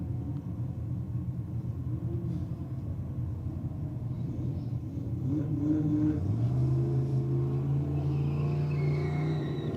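Race cars in a roll racing event rumble loudly and steadily, with engines revving and rising in pitch as they accelerate past midway, heard at a distance over a continuous low roar.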